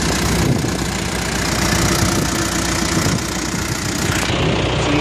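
A John Deere 550J LT dozer engine runs at a steady, even idle, a continuous close rumble with no voices over it.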